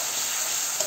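Country chicken curry stirred in a frying pan, giving a brief, steady, bright sizzle with a faint scrape near the end.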